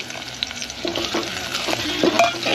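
Curry leaves crackle and sizzle in hot oil in a home kitchen pan while being stirred, a steady close frying hiss broken by scraping stir strokes, with no talking.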